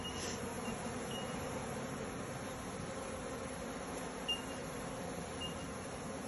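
Honeybees swarming around an open beehive during a hive split, a dense steady buzzing hum that fills the whole scene, close and continuous with no pauses.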